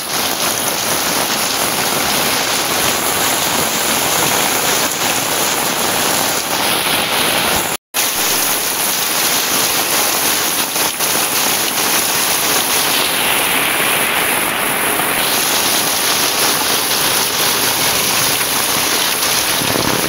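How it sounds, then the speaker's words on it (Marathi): Heavy rain pours steadily on a village house and yard in rural Konkan, a dense, loud, continuous hiss with no talk over it. "जाम पाऊस आहे, जाम पाऊस."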